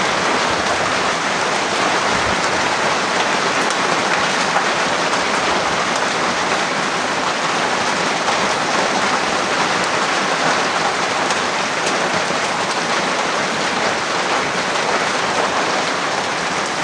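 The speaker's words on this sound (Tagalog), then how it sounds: "Ang lakas ng ulan, sobra." Heavy rain pours down on a farm in a loud, unbroken roar of dense droplets hitting surfaces, steady throughout with no voices.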